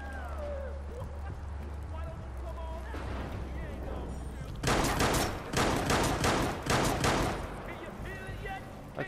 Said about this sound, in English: Seriously, I haven't even done anything and they're shooting at me.